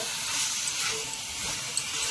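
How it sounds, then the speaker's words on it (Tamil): Half a kilo of chicken sizzles and hisses in a hot pan while being stirred, a close, steady frying crackle with soft scraping from the stirring and no voices. "ஒரு 2 to 3 minutes வந்து அதை எல்லாம் கிளறி விட்டுட்டு அப்படி விடுங்க"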